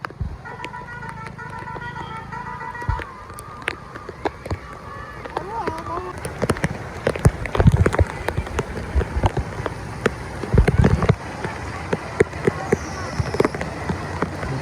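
Steady heavy rain falls across a farming village in Gujarat, a constant wash of noise with occasional sharper knocks and splashes, while people talk nearby throughout.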